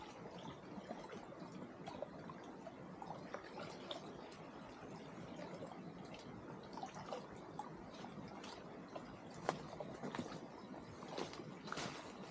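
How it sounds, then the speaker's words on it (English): Faint, steady bubbling and gurgling water in a steam vent on an active volcano in Japan, with occasional small pops and drips, continuous and fairly distant. "I can hear the water bubbling away."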